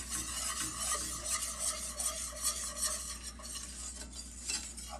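A roux being stirred in a pan, with a spoon scraping and rasping in a steady back-and-forth rhythm over a soft sizzle, close and moderately quiet, with no voices.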